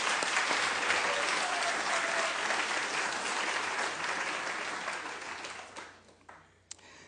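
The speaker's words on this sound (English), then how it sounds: "Let's all give them a round of applause." A large audience at a fall diversity series keynote applauds a media services team, a dense, steady wash of clapping that holds strong for several seconds and then thins out toward the end, with a few last scattered claps.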